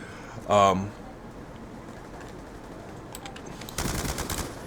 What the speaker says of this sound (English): I get gunned down again